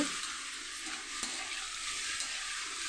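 Bitter gourd fry being stirred in a pan, a steady sizzling hiss with faint scraping of the spoon, one brief sharper clink, continuous and fairly close with no voices.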